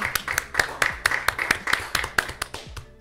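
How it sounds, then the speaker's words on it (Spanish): Applause at an e-sports show, a few people clapping in an uneven run of sharp, close claps that thin out toward the end. "Vamos a darle un aplauso a la Pancha Sport Faris."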